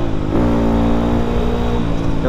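A modified Yamaha Vixion supermoto motorcycle engine revs loud and close, its steady throaty drone jumping in pitch just after the start and holding high before easing slightly near the end.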